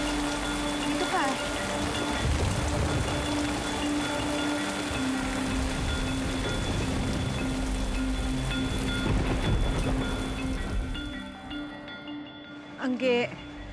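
Heavy rain drums hard and continuously in a stormy rural setting, a dense roar with low thunder-like rumbles, fading toward the end as a brief voice-like sound cuts in.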